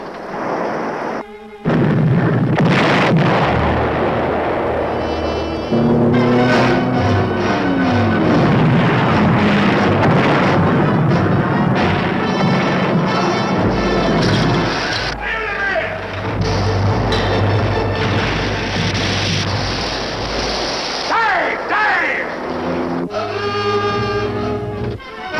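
A submarine fires torpedoes in a 1958 war film trailer, heard as loud, sustained rumbling booms and explosions layered with dramatic orchestral music, with brief shouted voices over the din.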